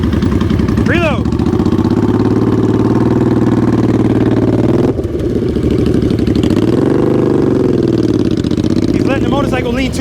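Motorcycle engine held at raised throttle with the clutch not let out during slow-speed riding practice, a loud, steady close rumble with slight pitch swells throughout.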